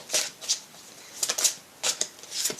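Tarot cards being reshuffled by hand, a series of quick riffling bursts repeated several times with brief pauses between, close and fairly soft.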